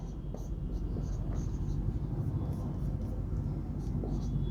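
Marker or chalk writing steadily on a board during a physics lecture on magnetic fields, a continuous scratchy stroke under a low room rumble with no talk.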